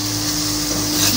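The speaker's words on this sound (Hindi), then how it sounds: "मसालों की 2-3 मिनट भुनाई हो जाए" Spices roasting in a pan for aloo gosht, giving a steady sizzle and soft frying hiss with a faint scraping stir. A low constant hum runs beneath, and no one speaks.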